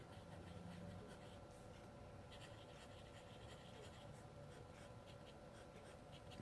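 A fountain pen with a 1.1 mm nib and Diamine Earl Grey ink scratching across paper in a notebook, faint close strokes in quick irregular bursts over a quiet background.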